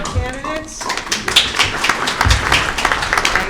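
Audience clapping at a candidates forum meet-and-greet, a short burst of applause under and after a speaker's voice, moderately loud and scattered.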